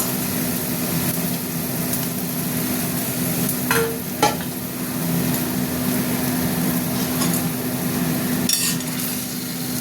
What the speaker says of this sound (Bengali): পাঁচ ফোড়ন একটু ভেজে নিলাম